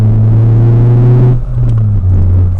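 Toyota Celica T23 TS with the 1.8-litre VVTL-i engine and stainless exhaust silencer, a loud steady engine drone and exhaust rumble that holds then eases slightly as the revs shift, with no talk.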